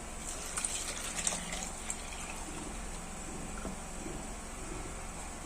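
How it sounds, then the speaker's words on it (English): Clove-boiled water is poured from a pot into a bathing bucket, making a quiet, continuous gushing splash with a few faint knocks, heard alone without speech. "you go ahead and add this water into your bathing bucket."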